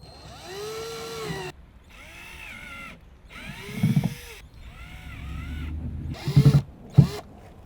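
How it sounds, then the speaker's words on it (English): A power drill bores holes in the bottom of a bin in several short whining bursts with pauses between, moderately close and fairly quiet, with no talking. "drill some holes along the bottom"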